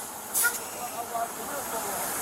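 Air hisses out of a truck's flat tires during a roadside police encounter, a brief breathy rush with a couple of louder swells, fairly close and steady.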